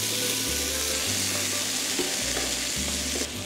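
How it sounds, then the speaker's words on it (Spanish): Garlic cloves, anchovy fillets and halved cherry tomatoes sizzling steadily in extra virgin olive oil in a pan, a loud continuous fry with occasional stirring clatter and no talk. "Estamos dorando el ajo y cociendo el jitomate"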